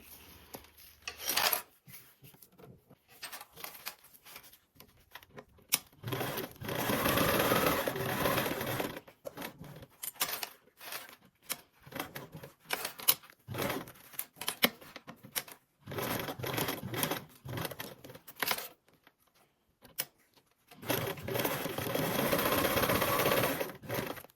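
A sewing machine top-stitches along joined seams of a small fabric project, running in repeated loud bursts of rapid stitching separated by short silent pauses, close and alone without any talk.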